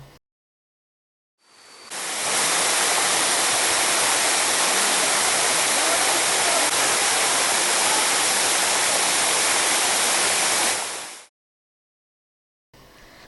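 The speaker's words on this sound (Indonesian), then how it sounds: "akan disuguhkan dengan air terjun pertama dengan ketinggian 7 meter" A 7-meter waterfall at Bukit Gantan in Musi Rawas gives a steady, loud rush of falling water that fades in, holds constant for about nine seconds, then stops, with no voices.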